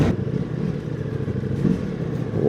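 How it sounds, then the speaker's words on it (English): A Ducati Multistrada Pikes Peak motorcycle with a titanium exhaust idles and revs nearby, giving a steady mechanical rumble with a slight rise in throttle partway through. "the sound the titanium exhaust makes, that is a fucking difference"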